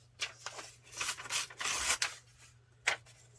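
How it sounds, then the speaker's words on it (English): Paper edges being trimmed for a grungy vintage mixed media junk journal page, heard as a series of close, soft rubbing and snipping strokes, brief bursts with short pauses between them. "I'm just trimming off the edges"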